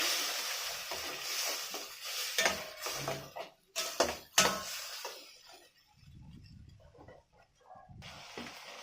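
Pointed gourd stir-fried in a pan with turmeric and chilli, irregular scraping and clanking of a spatula against metal over a soft sizzle, loud in bursts and then fading to a quieter fry.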